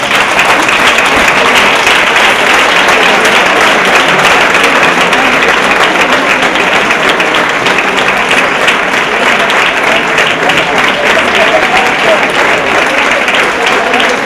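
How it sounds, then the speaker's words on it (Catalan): An audience at a Fallera Major 2015 candidates' presentation breaks into loud, sustained applause, a dense wash of clapping from a large crowd that holds steady for the full fourteen seconds. "Un fort aplaudiment per a elles."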